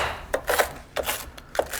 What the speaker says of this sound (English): go in chopping. It's a layer, it's the chop.